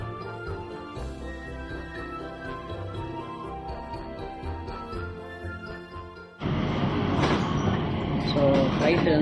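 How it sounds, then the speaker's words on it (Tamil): Changi Airport's Skytrain runs between Terminals 2 and 3 in Singapore, first as a steady tonal electric whine and hum, then as a sudden louder rolling rumble, with a voice speaking at times. "சங்கி ஏர்போர்ட்டில் சிங்கப்பூரில் T2 to T3 டெர்மினல் போகிறதுக்கு ஸ்கை ட்ரெயின் டைம் இருக்குது எனக்கு ஃப்ளைட்டுக்கு."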